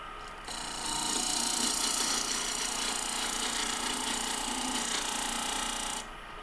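Woodturning lathe cutting a tenon on the end of a wooden box, a steady whirring cut that swells in for about five seconds over the motor's hum, then drops back to idle.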